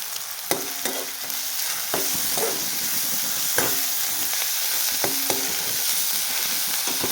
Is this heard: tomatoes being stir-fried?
yes